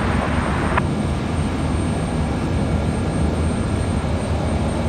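An airliner, Frontier Airlines flight 1741, takes off from runway 23 left at Raleigh-Durham International, a steady, loud engine roar sustained throughout without pause.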